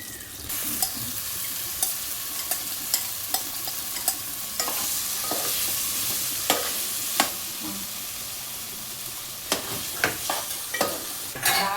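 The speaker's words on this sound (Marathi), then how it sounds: "ज्या भाज्या मॅरिनेट करत ठेवलं त्या तळून घेऊ" Marinated vegetables for a vegetable biryani fry in a pan with a steady, close sizzle, broken by repeated sharp clinks and scrapes of stirring throughout.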